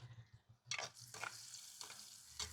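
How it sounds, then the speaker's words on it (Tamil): Onions and pandan leaves fry in a pan for tempering, sizzling steadily while a spoon stirs and scrapes in a few distinct strokes, with no talk. "வெங்காயம் ரம்பையிலையும் வந்து ஃபர்ஸ்டா போடுறீங்க."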